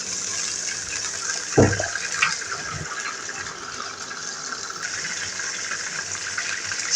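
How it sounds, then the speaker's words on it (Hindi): Water poured into a cooking pot while making vegetable biryani, a soft gushing and trickling stream with a few splashy knocks early on, under a steady background hiss. "अब इसमें मैं थोड़ा सा पानी डाल दूंगी"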